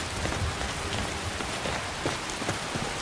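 Steady rain falls in the video game Skyrim, a dense, close hiss of drops pattering on surfaces with scattered louder splashes, continuous and without talk.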